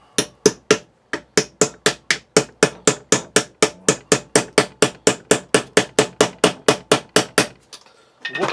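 Rapid, evenly spaced metal-on-metal hammer strikes on a screwdriver chiseling through steel between drill holes, about thirty sharp loud blows in a steady rhythm, then a brief pause and a scrape at the end.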